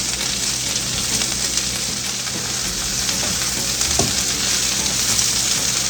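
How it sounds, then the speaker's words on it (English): Sausage and peppers fry in a pan with a steady, close sizzle and light crackle, stirred now and then, with no voices. "You just want to give it a little fry on here, that's all."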